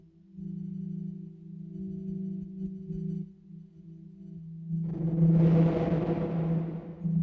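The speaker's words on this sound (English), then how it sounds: "So if I add the same reverb now" A synthesized tone with a steady hum from a modular Serge synthesizer shifts into a bright, washy chirp through a reverb effect that swells and lingers in a long reverberant tail, loud and alone.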